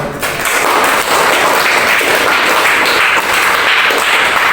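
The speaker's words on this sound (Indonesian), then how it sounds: "kasih tepuk tangan" A university classroom audience applauds with dense, crackling hand claps at a steady volume for several seconds, close and busy, with no clear talk.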